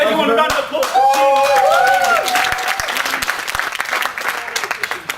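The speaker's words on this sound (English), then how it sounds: "Everyone, a round of applause." Audience applause at a user group meeting, a lively burst of clapping from the room with cheering and excited voices on top, tapering off into scattered claps by the end.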